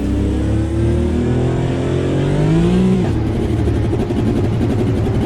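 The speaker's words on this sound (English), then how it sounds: "I'm driving a Porsche GT4 tonight." A Porsche GT4 race car in Automobilista 2 revs steadily at Brands Hatch, its engine note climbing in pitch for about three seconds before dropping sharply and settling into a rougher, lower drone, loud and continuous with no talk.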